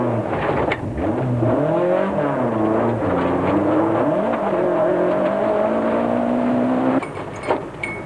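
A rally car slides into the embankment on a stage of the 1992 Sasol 400 Rally, its engine howling and wavering in pitch at close range, then cutting to rougher clattering noise near the end.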